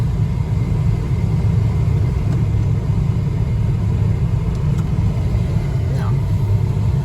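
A Ford Taurus station wagon idling after being put into gear, its engine giving a steady low rumble up close, with people talking over it.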